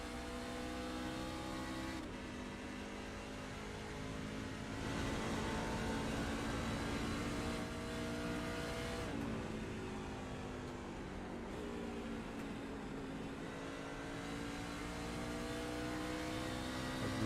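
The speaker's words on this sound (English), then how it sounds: "as we hear the 52 shifting here" A racing truck engine in a video game truck-series race at Phoenix drones at high revs, dipping and climbing again as it shifts through gears, steady and continuous.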